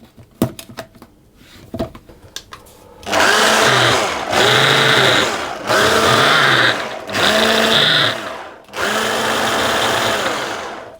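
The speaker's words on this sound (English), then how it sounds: "I'll just give that a mix first." Welsh cake dry ingredients, including caster sugar, being mixed in a bowl: a few light taps at first, then five loud whirring motor bursts with short pauses between them, close by.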